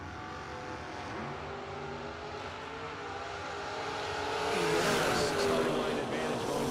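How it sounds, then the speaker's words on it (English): A Camaro launching off the starting line at a drag racing bracket event, the engine roar swelling and rising as the car pulls away, with a track announcer's voice over it. "Starting line advantage going to the Camaro in the left lane"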